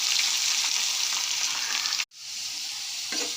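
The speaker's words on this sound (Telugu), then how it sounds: "ఇప్పుడు ఆనియన్స్ వేసుకుంటున్నాం అదే కడాయిలో." Onions sizzle and fry loudly in a kadai with a continuous bright hiss, briefly cutting out before the frying resumes.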